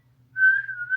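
A single short whistled note from a person, clear and fairly close, rising briefly and holding for under a second against a quiet background.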